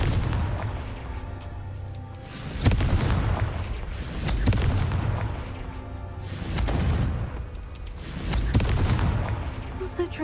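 Booming fire-blast spell explosions in the Hogwarts Legacy video game, several heavy rumbling bursts in a row with swelling low-end rolls between them, loud and close amid continuous game-effect noise.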